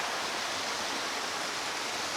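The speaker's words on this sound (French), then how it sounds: "Ah, joli ensemble de cascades ici." A river pours over a series of cascades and waterfalls inside a gorge, giving a dense, steady roar of rushing water that is loud and even from start to finish with no voices.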